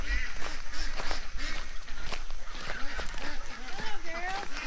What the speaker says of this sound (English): I see some ducks in your garden.